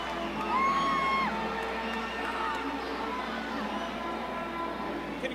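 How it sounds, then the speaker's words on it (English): A fight-night crowd at a martial-arts bout roars in a steady, distant wash of cheering and whoops, sustained without break, with a few shouted voices rising briefly above the din. "The crowd is going wild."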